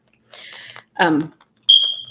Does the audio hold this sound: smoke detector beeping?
yes